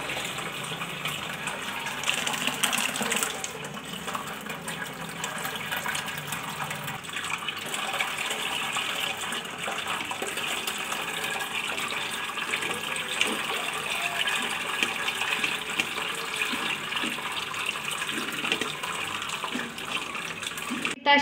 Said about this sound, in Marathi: ह्या चाळणीनाचा हा चिक आहे तो गाळून घ्यायचा आहे।